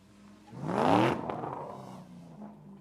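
Drift car fitted with an angle kit and lowered suspension revs up sharply in a single rising burst, then falls back to a lower engine hum, heard from a moderate distance.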